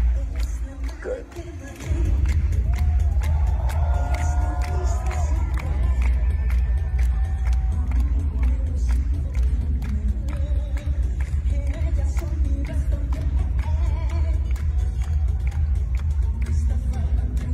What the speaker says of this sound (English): The audience, the crowd was cheering and like singing together with her song.